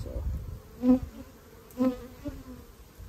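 Honey bees buzz in an opened hive during a late-summer inspection, a low drone with a couple of individual bees swelling close by the microphone.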